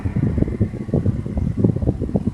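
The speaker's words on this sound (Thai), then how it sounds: "เราลองเปิดพัดลมนะครับ" An electric fan switched on and plugged through a power meter runs with a steady, fluttering whir and low buffeting air noise, close by and continuous, without speech.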